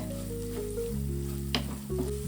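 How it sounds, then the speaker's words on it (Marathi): Masala sautéing in a pan, a continuous close sizzle with a steady hum beneath it, broken by one brief scrape of stirring midway. "चांगलं मिक्स करा एक दोन मिनटं परतवून घ्या"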